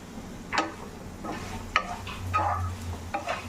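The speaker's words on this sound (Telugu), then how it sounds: "ఇప్పుడు కలిపేసుకుందాం." A spoon stirs chili powder into potatoes frying in a pan for an aloo fry, making a few scattered scrapes and clicks over a soft, low sizzle, close by with no voices.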